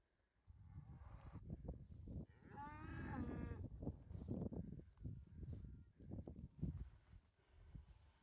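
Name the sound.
cows mooing on a farm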